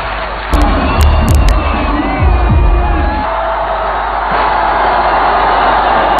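A crowd cheering and shouting at a live fight event, loud and close with whoops and yells over a dense roar; the cheering swells early, then settles into a steady crowd din.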